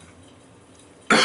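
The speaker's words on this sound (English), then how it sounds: "Hopefully, this cough will be over and everything." A single sharp cough bursts out near the end after near silence, loud and close.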